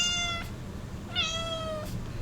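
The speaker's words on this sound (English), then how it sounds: "can you stop meowing behind me?" A cat gives two clear meows, the first short and the second longer and drawn out, close to the microphone over a low background hum.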